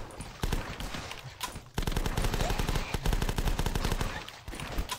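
Rapid automatic gunfire at zombies in the video game The Last Stand, dense loud bursts in quick rhythm with a brief pause before a longer sustained volley.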